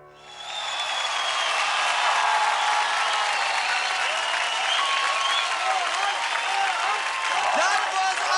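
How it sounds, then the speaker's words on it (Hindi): A studio audience at a children's dance competition bursts into loud, sustained applause and cheering for Rohan's performance, with voices heard over the clapping. "जोरदार तालियां हो जाए रोहन के लिए।"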